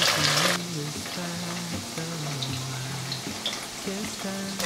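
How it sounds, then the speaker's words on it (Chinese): Tofu sizzles and fries golden in a thick-bottomed, Taiwan-made Walkie pan, a close, continuous crackle with occasional stirring noises under a soft melodic tune. "再继续让它另一面煎成金黄色"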